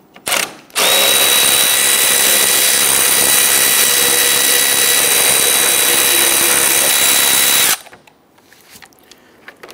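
A power tool whirs steadily on the 10mm bolts across the top of a 2011-2019 Ford Explorer front grille, a loud, continuous high-pitched spin held for about seven seconds before cutting off abruptly into quiet.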